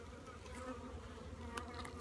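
Honey bees hum steadily at an open hive, a soft, continuous drone with a few individual bees buzzing closer for a moment.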